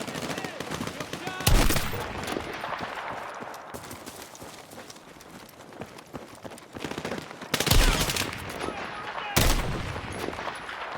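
Bursts of machine gun fire in the video game Battlefield 6, loud volleys around the second and near the eighth and ninth seconds over a dense battlefield din, with voices talking in between.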